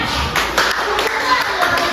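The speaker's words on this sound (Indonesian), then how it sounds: "tepuk tangan." Third-grade schoolchildren clap together in a classroom during a Pancasila civics lesson, a few loose rounds of claps heard up close with voices mixed in.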